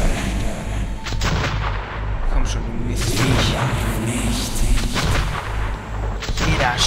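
Heavy gunfire and booming blasts in the video game Metro 2033, repeated loud shots with rumbling low-end over a tense soundtrack, while a voice speaks over the action.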